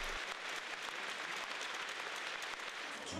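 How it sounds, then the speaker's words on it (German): Sustained applause from spectators and players at an indoor basketball game between Tigers Tübingen and Trier, honoring Kobe Bryant: a dense, even crowd clapping that holds steady throughout. "Zu seinen Ehren klatschten alle Zuschauer und Spieler 24 Sekunden lang."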